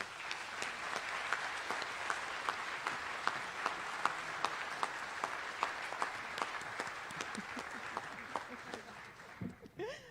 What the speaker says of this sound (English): Please, let's give them a big round of applause.